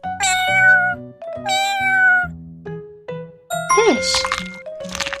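Two drawn-out, tonal cat meows ring out clearly as a sound effect, followed by bright jingling and ding-like chimes, with a childlike vocal tone mixed in.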